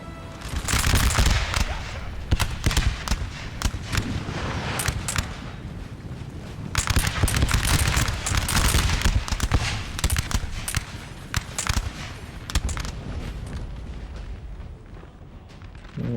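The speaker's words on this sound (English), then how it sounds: "Looks like France is firing their artillery down the street." French artillery in Napoleon Total War fires down a street in repeated loud booming volleys, heavy cannon blasts overlapping with crackling gunfire through a continuous rumbling battle din.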